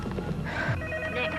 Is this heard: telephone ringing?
yes